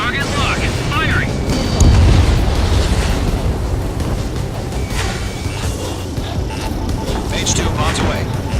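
A missile launch and explosion in the Ace Combat 7 flight game: a deep, booming blast around the two-second mark over continuous jet roar, with radio-style voices talking throughout.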